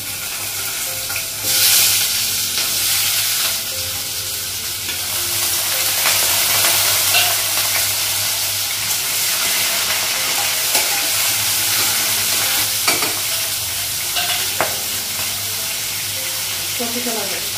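Green chillies and Bengali five-spice seeds frying in hot oil in a kadai, a loud, continuous close-up sizzle with occasional stirring scrapes throughout.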